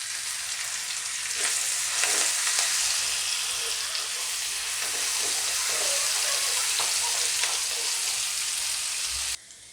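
Chopped garlic and green chili sizzle steadily in hot oil in a pan, a close, even crackle with occasional stirring scrapes, and no voices are heard.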